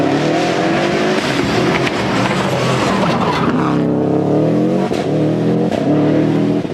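Subaru rally car at the 1998 Lurgan Park Rally running wide onto the grass, engine loud and close, holding high revs with quick gear changes and brief dips as it slides through.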